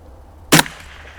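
A .22 LR Savage FV rifle fires a single short, sharp gunshot at an outdoor shooting range, close by, with a quick fade and no talking.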